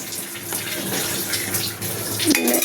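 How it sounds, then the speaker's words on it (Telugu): Water is poured into a thick, simmering tomato-puree gravy in a pan, a steady close gushing pour that runs continuously with slight swells and no talking. "కొంచెం వాటర్ పోసుకొని గ్రేవీని ఉడకనియాలి."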